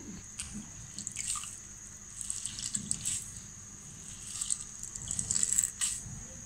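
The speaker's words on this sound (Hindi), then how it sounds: "इसका जो पानी है वो मैं रिमूव कर देती हूँ" Water trickling and dripping in bursts as grated potatoes are squeezed by hand, with faint splashes into a bowl, close by and fairly quiet.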